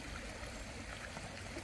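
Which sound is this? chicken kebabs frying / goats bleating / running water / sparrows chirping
running water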